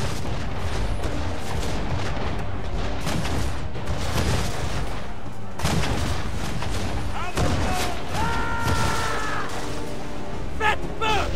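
Ship cannons firing during a naval battle in Assassin's Creed, dense booming broadside blasts and explosions forming a continuous loud roar, with a voice and game noise mixed in.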